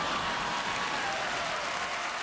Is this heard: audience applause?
yes